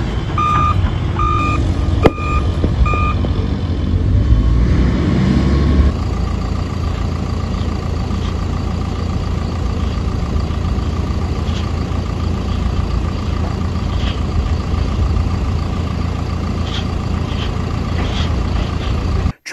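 Garbage trucks and municipal work machines dumping roadside waste at a disposal site, with steady reversing beeps early on over a rumbling heavy diesel engine that keeps idling and churning loudly throughout.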